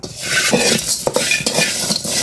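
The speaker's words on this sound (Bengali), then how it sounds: "এই সম্পূর্ণ মশলা দিয়ে তিন মিনিট মতো নাড়াবো" A utensil scrapes and stirs repeatedly in a pan over a steady sizzle of whole spices frying in mahua oil, close and fairly loud, with no talking.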